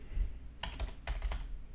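Keystrokes on a computer keyboard, a few quick clusters of clicks typing a command, close and fairly quiet over a low background hum.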